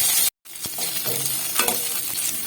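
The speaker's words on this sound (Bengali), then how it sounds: "ততক্ষণ আমি ফুলকপিগুলোকে ভেজে নেব।" Cauliflower florets fry in hot oil in a wok, giving a dense, close crackling sizzle. It breaks off for a moment near the start, then carries on with occasional light clinks of stirring.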